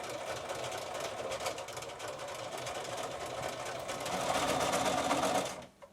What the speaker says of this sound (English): I'm going to sew all the way around.